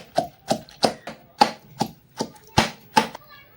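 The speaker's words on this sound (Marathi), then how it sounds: "याच्याने मी आता शेंगदाणे कुटते" Peanuts pounded by hand in a village kitchen, about ten sharp, evenly paced thuds in close succession, loud and near with no talking.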